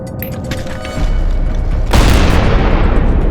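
A grenade goes off during a close-range battle in Avdiivka. A loud, sudden blast rises out of rumbling combat noise and leaves a broad, lingering roar.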